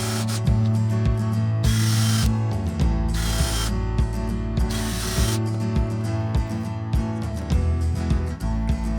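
A screw is driven through a countersunk hole to fasten a steel bending blade to a wooden block. A loud power drill whirs in several bursts over steady ratcheting clicks, up close.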